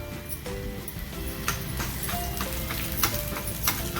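Cumin, chopped green chillies and curry leaves sizzling in hot oil in a tempering, a steady close frying hiss with crackles and sharp pops plus a few clinks of a spoon against the pan.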